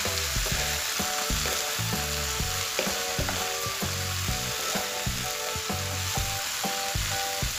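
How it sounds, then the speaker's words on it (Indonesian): Tempeh gembus and papaya are stir-fried in a pan, producing a loud, continuous sizzle with recurring stirring scrapes and clatters throughout. "Kita tumis sampai matang."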